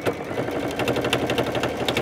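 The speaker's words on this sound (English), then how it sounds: "I'm going to finish sewing it on and show you how to turn the corners." Sewing machine sewing decorative trim onto a pillow, a close, steady run of quick regular needle thumps with a light mechanical clatter and no talking.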